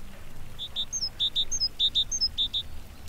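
A bird-shaped whistle chirps in quick high paired tweets that repeat in an even rhythm, clear and close over a faint low hiss, with no voices.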